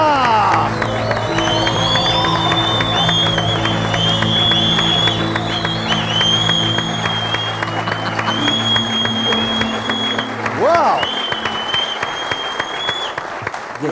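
A studio audience on a television talk show applauds and cheers loudly as a popular singer walks on as a surprise guest. The clapping is dense and sustained, with whoops and a crowd roar under music, then eases off near the end.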